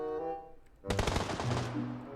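Gunfire in the battle royale game PUBG: a sudden close burst of rapid automatic shots cracks out mid-clip after a quieter tonal stretch, ringing on in several quick bursts.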